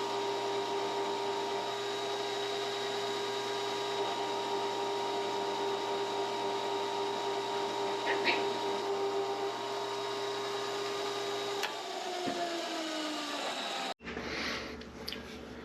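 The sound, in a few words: CNC mill drilling a hole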